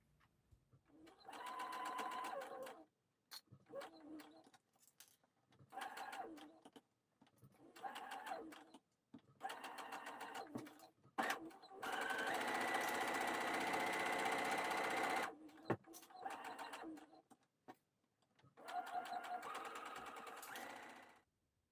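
Sewing a New Look 6483 top, a machine stitches the arm and neck seam in repeated short bursts, with one longer continuous run in the middle; starts and stops come close together.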